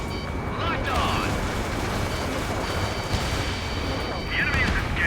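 Missile launches and explosions in the Ace Combat 7 combat flight game, a steady loud roar of jet and blast rumble throughout, with radio chatter voices over it.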